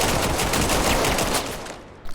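Rapid pistol shots in the competitive shooter Vail crack close and loud in a dense burst, firing in quick succession before the noise thins out near the end.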